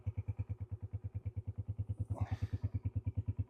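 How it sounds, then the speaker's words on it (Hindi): A motorcycle idles steadily after starting, its engine thumping in a fast, even rhythm close by. Outside a village home near the Afghanistan border, a brief hissy rush rises midway over the chugging. "देखें ले भाई, बाइक स्टार्ट की है।"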